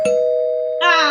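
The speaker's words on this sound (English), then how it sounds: "Can I get a doorbell ring just for the doorbell ring's sake?" A doorbell rings once as a sound effect: a short click, then a sustained clear ding followed by a brighter second tone, loud and alone.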